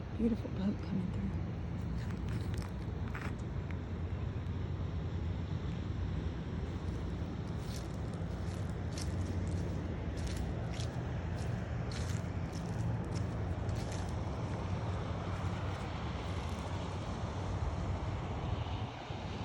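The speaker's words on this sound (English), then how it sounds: "Love the sound of that humming through the water." A large boat cruises past a dock at an RV resort, its engine a steady low hum carrying across the water, with voices faintly at times.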